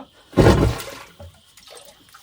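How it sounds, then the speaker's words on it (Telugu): Water gushes out in a single short burst at the Sitamma Theertham sacred spring in the Tirumala hills, a close splashing rush that quickly fades into faint trickling. "ఇట్లా మూడు సార్లు అన్నామంటే శబ్దం వస్తుంది చూసినారా ఇంకో నీళ్ళు వస్తాయి చూడండి ఇప్పుడు"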